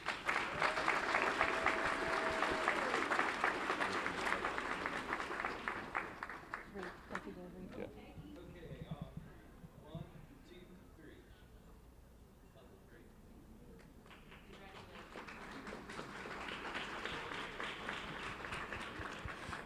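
Applause at a school board meeting honoring a high school head coach and throws coach; clapping from the seated audience swells, fades to a lull in the middle, then rises again, with some talk underneath.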